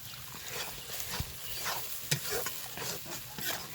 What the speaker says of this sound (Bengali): আরও ভালোভাবে আমি মশলাটা কষিয়ে নিব